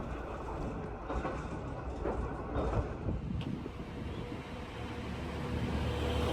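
Nishikigawa Railway train running at normal line speed past the Seiryu Miharashi scenic spot: a steady rumbling roar of wheels and motor heard from inside, with a few soft clunks and a constant low hum.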